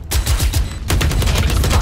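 Rapid bursts of gunfire from the tactical shooter Valorant, a dense run of sharp repeated shots following a brief lead-in, loud and close with no talk over them.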